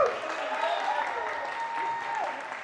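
Audience at a live show applauding and cheering for a contestant, a continuous wash of clapping with shouts and whoops mixed in, moderately loud and steady for a few seconds.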